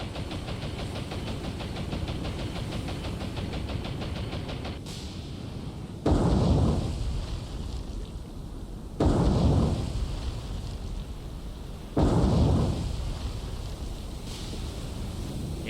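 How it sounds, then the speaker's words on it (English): Three torpedoes strike a ship in War on the Sea: three loud booming explosions about three seconds apart, each decaying into a rumble over a constant engine and sea drone. "All 3 torpedoes hit, and immediately she is listing heavy to port."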